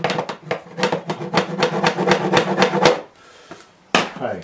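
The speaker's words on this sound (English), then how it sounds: "One of my old carpet tack hammers." A small carpet tack hammer drives tacks into a painting with a rapid run of sharp, close taps for about three seconds. After a brief pause, one more tap sounds.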